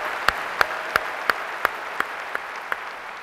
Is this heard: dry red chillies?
no